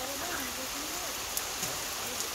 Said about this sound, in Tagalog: Blessing itong ulan na ito.